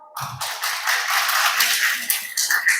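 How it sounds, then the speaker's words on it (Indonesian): An audience applauds at the second anniversary gathering of LDRA Surabaya, an Islamic lecture event held at BKKBN. A brief sound opens the clip, then steady, moderately loud clapping follows and carries on to the end. "tepuk tangan dong"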